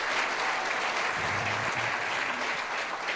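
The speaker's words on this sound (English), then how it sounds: "Give yourselves an applause." A crowd claps steadily in a continuous wash of applause, with a faint low voice or cheer briefly underneath.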